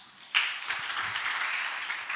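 Audience at a regional startup summit breaking into steady applause to welcome a speaker, a sudden onset of dense clapping that holds evenly throughout.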